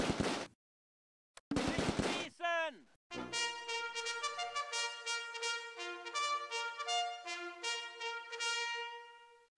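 Bazooka and gunfire in a Close Combat World War II battle: two sharp blasts, then a sweeping whine and a long run of rapid, near, metallic bursts with a faintly ringing tone.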